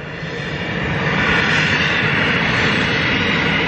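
A Zodiac light aircraft's engine runs with a broad, steady roar that swells over the first second and then holds loud and close, with no voices.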